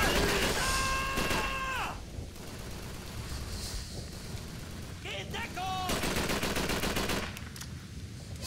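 Gunfire from Call of Duty 3, a World War II shooter, played on Xbox Series X: bursts of automatic weapon fire in several loud volleys amid a busy battle, with a voice talking over parts of it.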